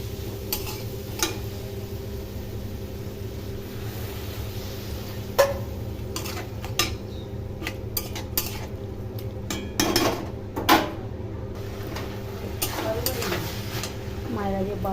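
A cornflour and water mixture is stirred in a pan in a home kitchen, with a steady low sizzle and scattered clinks and scrapes of a utensil against the pan.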